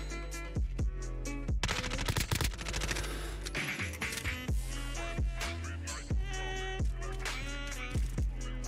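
Hip-fire shooting in a first-person shooter video game comes in rapid, loud bursts of shots with brief gaps, repeating throughout amid other game sounds.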